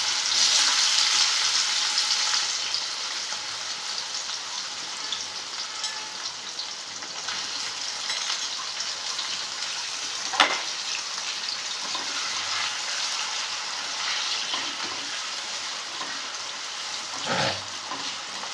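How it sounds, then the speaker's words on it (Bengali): Potatoes fry in hot oil in a wok, producing a continuous close sizzle that is strongest at first and then settles, broken by a couple of sharp utensil clacks against the pan. "এবার আমি আলুটা ভাজবো।"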